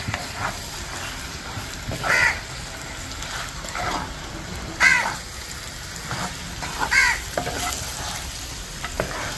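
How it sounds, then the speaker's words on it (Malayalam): Chicken coated in masala is stirred in a pan with a spoon, giving steady frying sizzle and a few louder scraping strokes spaced a couple of seconds apart, close and without any talking. "മസാലകളൊക്കെ ചിക്കൻ്റെ എല്ലാ ഭാഗത്തേക്കും ആവേണ്ട പോലെ തന്നെ നന്നായിട്ട് തന്നെ ഇളക്കി കൊടുത്തോളൂ"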